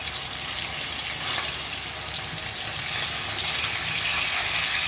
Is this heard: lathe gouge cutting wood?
no